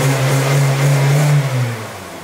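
A car with a 1.6-litre engine revs loudly up close, holding a steady drone before the pitch drops as it eases off.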